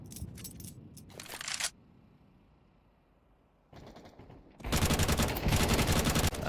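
Automatic FAMAS rifle fire in a Counter-Strike pro match, a short burst of shots early on, a pause, then a longer and louder sustained volley of rapid gunfire near the end.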